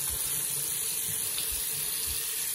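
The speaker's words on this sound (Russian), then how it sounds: "Лить сюда воду, сколько вам влезет." Tap water pours steadily into a sealed bathroom sink, a continuous close splashing gush with no talking.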